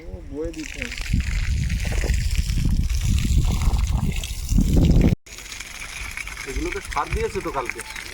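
Water leaks and splashes out of an old pipe that is leaking in many places. It sloshes and trickles steadily under someone talking close by, with a brief break near the end.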